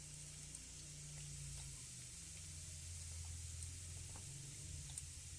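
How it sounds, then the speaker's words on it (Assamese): Cumin seeds and asafoetida frying in hot soybean oil in a pan, giving a steady, faint, close hiss and sizzle with a low hum beneath and no talk. "মোৰ হিং আৰু জিৰাখিনি ভাজা হৈ গ'ল"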